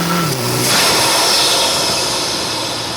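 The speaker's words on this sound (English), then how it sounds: "it's got one of the loudest induction sounds of all the ones on the market" A tuned MK7 Golf GTI with an Integrated Engineering intake, turbo inlet elbow and muffler delete revs up close by, its engine note rising into a loud, breathy induction roar that holds steady.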